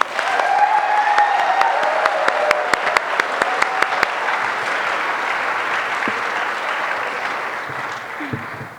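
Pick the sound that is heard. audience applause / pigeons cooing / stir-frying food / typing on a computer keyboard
audience applause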